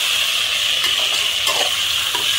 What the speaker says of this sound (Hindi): फ्रेश बीन्स और फ्लावर, सारी सब्जियां एक एक करके डालते जाएंगे और चलाते जाएंगे।